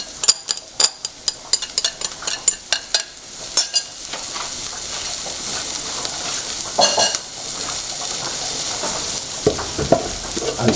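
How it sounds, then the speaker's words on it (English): Sauteed onions and curry powder sizzle loudly in a pan, with a spoon or spatula scraping and tapping in quick rhythmic strokes at first, then a steady frying hiss with occasional stirring clinks. "Now that my onion is sauteed, I'm going to add my curry powder."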